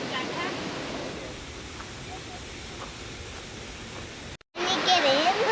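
Emerald Creek Falls near Mareeba gives a steady broadband rush of falling water, moderately loud and continuous, breaking off briefly near the end before a voice begins talking over the roar.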